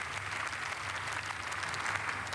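Steady, sustained applause fills the German Parliament chamber, a dense crowd clapping evenly throughout with no pauses.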